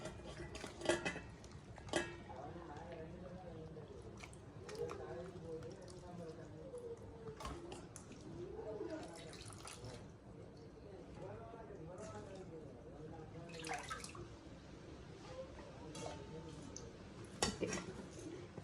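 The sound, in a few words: washing cut food in a vessel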